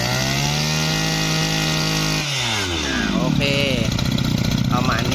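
A small two-stroke engine on a used Maruyama brush cutter revs and settles into a steady, buzzing run, rising in pitch after a brief stutter, close by.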